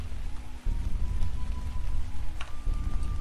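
Steady rain falls in the game Cataclysm DDA, a constant close patter on surfaces with a low rumbling undertone that briefly drops out before resuming.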